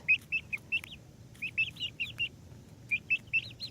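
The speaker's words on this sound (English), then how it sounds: "She's a very cute little chicken." A Rhode Island Red hen clucks in quick, close bursts of short chirpy notes, grouped in three clusters with brief pauses between them.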